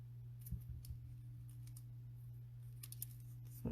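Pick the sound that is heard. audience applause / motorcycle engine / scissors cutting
scissors cutting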